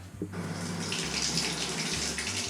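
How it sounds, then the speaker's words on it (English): Water runs and splashes from a dripping Moen Posi-Temp tub and shower faucet, a steady close gush with a low hum that shifts in pitch a couple of times. "We got our Moen Posi temp. She's dripping."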